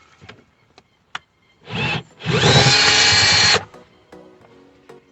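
Cordless power drill backing screws out of a car interior panel: a short whir, a pause, then a longer steady high-pitched drilling run, close and clear, with small clicks and handling sounds around it.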